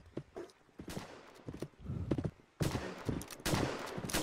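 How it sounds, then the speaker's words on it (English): Gun battle fire in the Roblox Westbound game: scattered sharp shots at first, some hoofbeat-like clatter and footsteps mixed in, then heavier, louder bursts of gunfire in the second half. "Just having a gun battle for money real quick."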